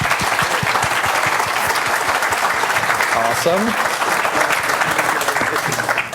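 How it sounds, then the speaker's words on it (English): An audience at a Cloud Native London tech meetup applauds a speaker, sustained loud clapping across the whole stretch, with a voice speaking briefly over it. "So round of applause, please, for Victor."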